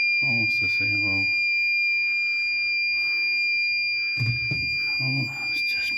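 A fire alarm panel buzzer in a sprinkler plant room holds a continuous high-pitched electronic tone at the same pitch throughout, while people talk nearby.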